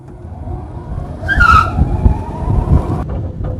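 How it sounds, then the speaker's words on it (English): An electric 1967 Austin Mini Moke conversion pulls away, giving a low rolling rumble with a brief rising whine or squeal near the start, then steady driving noise; no one speaks. "I'm just going to turn this thing on and give it gas, and we're going to go for a ride"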